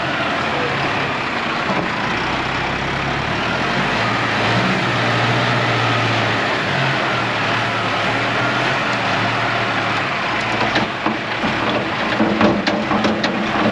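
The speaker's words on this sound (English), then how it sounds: "With John piling into it with the tractor." A farm tractor piling into a heap of dung to load a muckspreader, its engine running steadily and loud close by, with louder clanks and rattles near the end; no talking.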